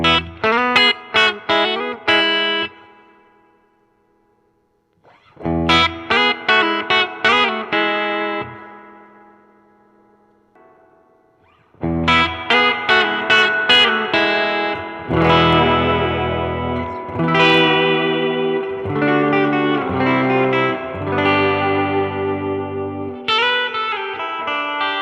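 Electric guitar played through a 7-watt tube amp's simple 12AT7-driven reverb circuit, bursts of strummed and picked notes with short pauses between phrases, then a longer, denser passage, washed in reverb and a bit of grit.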